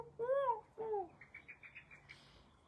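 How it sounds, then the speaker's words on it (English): Collared doves call from tall Leylandii cedar trees, a few clear hooting coos at first followed by a soft run of quick faint chirps, quiet and somewhat distant. "So collared doves are like a cross between pigeons and doves, but they live up in the big Lelandii cedar trees up there."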